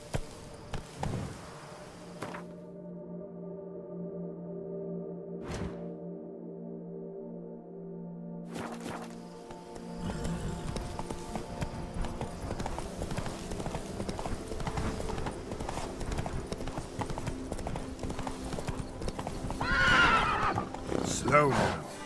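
Horse in The Witcher 3 game galloping with steady clip-clop hoofbeats and a whinny, set against game ambience and music, with someone speaking over it.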